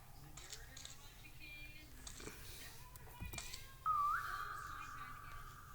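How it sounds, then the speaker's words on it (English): A player character in the video game Ikea gives a single steady whistle near the end, loud and sustained for almost two seconds after a brief rising onset, over faint game ambience and small clicks. "I accidentally whistled."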